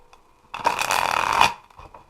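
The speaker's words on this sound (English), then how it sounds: "So let's start shuffling our cards" Tarot cards are shuffled up close, producing a single dense riffling rustle that lasts about a second between quiet stretches, with no talking.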